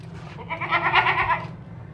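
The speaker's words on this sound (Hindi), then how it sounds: "बहुत ही खूबसूरत बकरा है, ज़बरदस्त है।" A large, broad-chested male goat bleats once in a loud, wavering cry lasting about a second, close by at a livestock sale with low background murmur.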